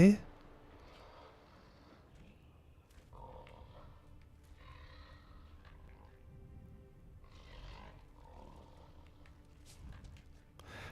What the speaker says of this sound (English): I can hear it. It's a bear.